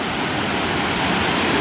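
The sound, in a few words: Mae Rim waterfall in Chiang Mai, Thailand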